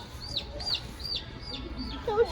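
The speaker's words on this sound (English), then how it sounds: "that's definitely a chicken." A chicken on a farm gives a string of short repeated cheeping clucks at a steady rhythm, close by, ending in a brighter squawk.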